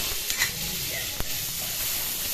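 Capsicum lightly frying in butter gives a steady broadband sizzle, with a brief soft clatter and one sharp tap near the middle.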